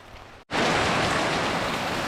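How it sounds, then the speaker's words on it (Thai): Heavy rain pours down outdoors at a garden snail-raising spot, a loud dense hiss that bursts in after a split-second gap and stays steady and close. "ทำเสร็จก็ฝนตกเลย"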